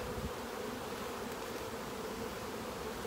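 Honeybees humming from an open apiary hive during inspection, a steady, dense buzzing drone that holds evenly throughout, close but moderately quiet.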